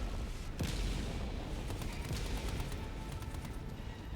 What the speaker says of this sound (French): Le canon, il marche bien